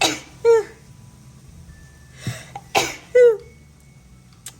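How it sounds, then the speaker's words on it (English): A woman sneezes indoors, a sharp burst followed by voiced gasps and a second explosive sneeze with a short throaty trailing sound, loud and close with quiet room tone in between. "And I'm about to sneeze."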